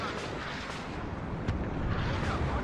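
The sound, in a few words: SPG-9 recoilless gun firing at a Chieftain tank in video game WARNO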